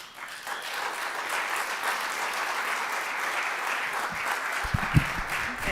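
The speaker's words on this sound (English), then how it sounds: "Another round of applause for Dilla" Steady audience applause, a dense wash of many hands clapping together at an even level throughout, with a few louder knocks near the end.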